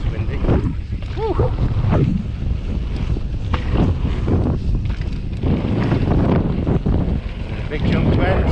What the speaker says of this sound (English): it is very windy actually